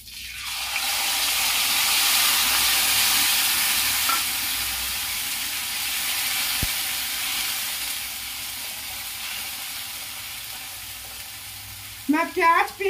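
Onion paste spits and sizzles steadily in a pan for egg curry, a broad continuous frying hiss that fades slightly toward the end before a brief burst of clattering stirring.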